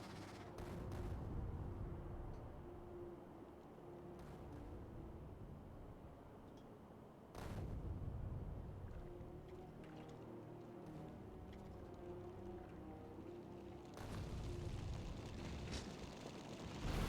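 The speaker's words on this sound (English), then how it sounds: "So we can just kind of carpet bomb this place." Artillery carpet-bombing in the video game Factorio: a continuous low rumble of distant, overlapping blasts, with sharper loud impacts near 1, 7.5 and 14 seconds and no voices.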